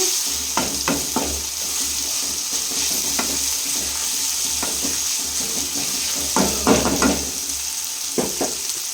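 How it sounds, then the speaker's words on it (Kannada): Chopped tomatoes frying in a pan, with a steady sizzle throughout and a spoon scraping and stirring in repeated strokes, close and fairly loud. "ಹೆಚ್ಚಿಟ್ಟಿರೋ ಅಂಥ 2 ಟೊಮೊಟೊ ಹಾಕ್ಕೊಂಡಿದ್ದೀನಿ ಫ್ರೆಂಡ್ಸ್. ಇದು ಸ್ವಲ್ಪ ಮಿಕ್ಸ್ ಮಾಡ್ಕೊಳ್ಳೋಣ."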